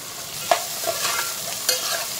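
Chopped onion and tomato frying over low flame in a pan, a gentle continuous sizzle broken by a few crisp spatula scrapes and taps, close-up and without speech.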